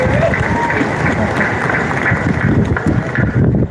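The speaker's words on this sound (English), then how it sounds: "Let's give her a round of applause." A windy outdoor competition crowd applauds a competitor, a broad wash of clapping blended with gusting wind noise against the microphone, with a voice talking over it.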